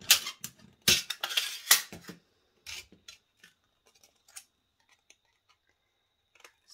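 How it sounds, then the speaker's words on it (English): Scissors cut through an aluminium can in a quick series of crisp snips and scraping metal rasps, dense at first and then thinning out into sparse, faint clicks. "it's really easy and simple to cut with your scissors"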